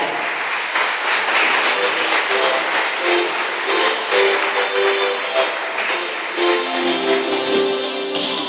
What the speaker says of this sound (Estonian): Ja aplaus juunioriklassi võitjatele.